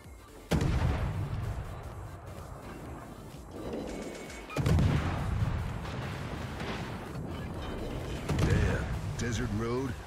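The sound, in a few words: naval gunfire from World of Warships video game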